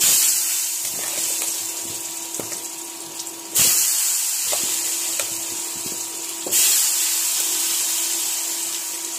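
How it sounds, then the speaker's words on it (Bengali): Potato pieces frying in hot oil in a home kitchen pan, a loud steady sizzle that runs throughout with two sudden bursts where it flares up sharply, with no talking. "তেল আমার গরম হয়ে গেছে, এবার আমি আলুগুলোকে ভেজে নেব।"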